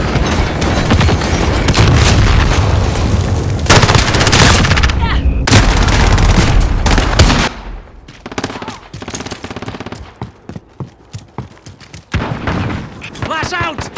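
Gunfire in the Call of Duty video game on the Shoot House or Shipment map comes as loud, dense bursts of machine-gun fire and booms that break off into scattered single shots.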